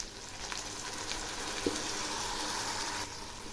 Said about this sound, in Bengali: এগুলি একটু নেড়ে দিচ্ছি।